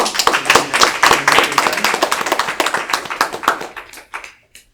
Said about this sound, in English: So let's give a big round of applause to Premamani.